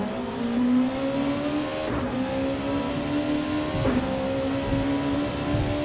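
Super GT race car on track, engine droning steadily with brief dips under braking and sharp transient bursts as the rear tyres lock, then pulling back up under throttle.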